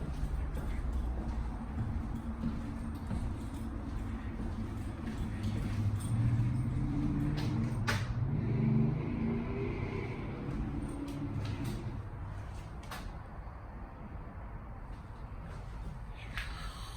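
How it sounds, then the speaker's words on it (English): A car slowly climbs onto newly built truck ramps, a steady low engine rumble and tire creak rising in the middle and easing off, with no talk. "Got our first car up on these ramps, newly built ramps."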